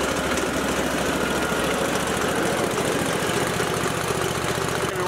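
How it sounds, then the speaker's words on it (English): A Wood-Mizer sawmill runs as its machine head is raised, giving a loud, steady engine drone with a fast mechanical throb and vibration throughout. "Now we want to raise the machine high enough so that it can clear the hydraulic."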